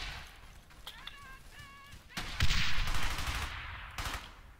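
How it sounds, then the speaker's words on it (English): Automatic gunfire from a Thompson submachine gun or .30 cal machine gun in a World War II video game, rapid loud bursts following quieter tonal game sounds, close and sustained. "is it my Thompson or that 30 cal that's going off?"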